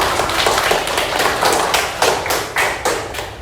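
Children in a classroom clap in a rhythmic run of about a dozen sharp, even claps, loud and close, with no talk over them.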